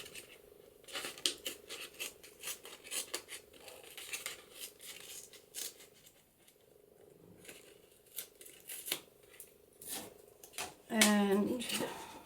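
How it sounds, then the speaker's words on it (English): Paper torn by hand for a layered birthday card, long ripping strips pulled down the sheet repeatedly at close range, ending in a louder tear, with a voice talking quietly over it. "I might just tear it with my fingers. Tear it all the way down."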